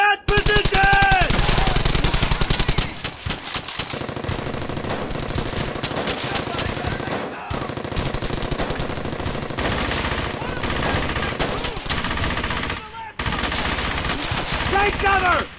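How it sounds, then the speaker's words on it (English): Machine gun fire in the World War II video game Brothers in Arms Hell's Highway, a loud, nearly continuous stream of rapid shots with only short breaks, layered with other battlefield gunfire. "Let's get that MG set up! All right, I'm going. Fire on that position!"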